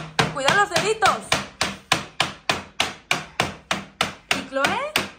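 A child taps with a toy hammer while fixing a chest, about a dozen regular, close knocks at an even pace, with a brief bit of high voice between some of the strikes.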